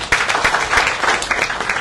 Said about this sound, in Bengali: তার জন্য আমি একটা জোরালো করতালি চাচ্ছি